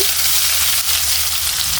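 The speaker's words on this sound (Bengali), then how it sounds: "পেঁয়াজ কুচি দিয়ে দিচ্ছি" Chopped onions sizzle loudly and steadily in hot oil in a pan, a short, close, unbroken frying hiss with no voices.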